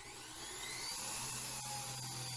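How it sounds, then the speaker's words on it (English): A metal drill bit bores a hole near an old nut while a rear wheel hub is changed on a Grand Caravan, VW Routan or Town & Country minivan. It gives a steady, loud, high-pitched whine that holds for the whole stretch. "I'm just going to drill a hole beside it"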